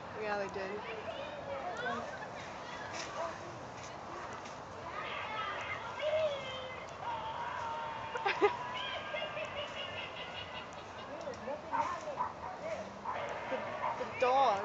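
Dogs bark and yip in bursts during a Halloween trick-or-treat outing in a Kissimmee neighborhood, with people talking and exclaiming throughout alongside the barking.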